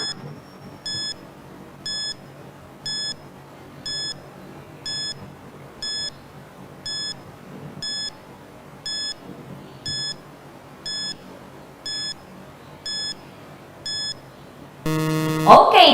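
Evenly spaced electronic countdown beeps for a classroom timer, about one per second for some fifteen beeps, over a faint background hiss, ending in a louder burst of sound.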